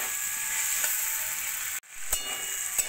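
Beetroot and carrot curry with tomato sautés in a pan, a close, even sizzle broken by a brief pause and a couple of soft stirring knocks.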